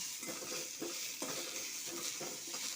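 Garlic and chili frying in a pan for an eggplant vegetable dish, a steady close sizzle with a few soft stirring scrapes, no talking.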